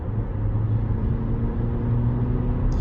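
Cabin of a 2023 Beijing X55 SUV accelerating on the highway: a steady low road and engine rumble, muffled and even, with no voices.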